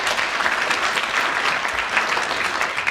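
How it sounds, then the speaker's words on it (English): Studio audience applause on a BBC radio comedy panel show, a steady dense round of clapping, loud and unbroken, with no speech. "Another extra round of applause and a bonus point to Clement Freud."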